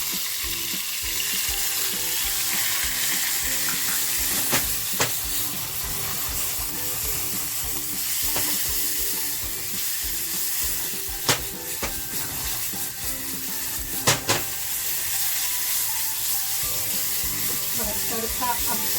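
Spice paste for prawn-stuffed pomfret frying in a little hot oil, a steady loud sizzle with a few sharp spatters and stirring clinks, no one speaking.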